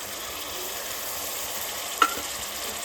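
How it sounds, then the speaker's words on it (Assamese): Turmeric, cumin and coriander powder are stirred into sizzling ginger garlic paste in a pan, making a continuous close frying hiss with one sharp scrape or clink near the end. "আৰু ধুনীয়াকৈ অলপ সময় ভাজি লওঁ এনেকৈ মছলাখিনি"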